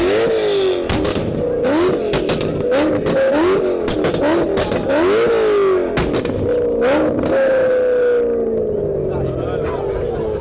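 A powerful BMW E92 M3 V8 engine revs and accelerates through repeated rising sweeps, loud and nearby, then drones off more steadily while people talk over it.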